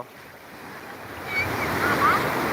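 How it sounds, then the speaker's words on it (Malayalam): Ocean waves washing onto a beach in the morning, a steady broad surf rush that swells louder midway and stays full, with wind buffeting the microphone throughout. "വേദൂട്ടൻ രാവിലെ ബീച്ച് വൈബ് ആസ്വദിക്കാൻ വന്നതാണോ"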